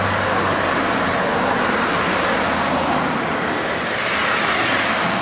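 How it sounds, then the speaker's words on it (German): Road traffic on Klettenberg street in Lauterbach: a steady, broadband rumble and hiss of passing vehicles, constant in level with no clear individual pass-bys and no voices. "Verkehr Klettenberg runter"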